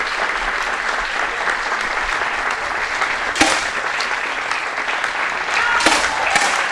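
Spectators at a men's 10m air rifle World Cup final in Fort Benning clap continuously in a steady wash of applause, with a few sharper accents along the way.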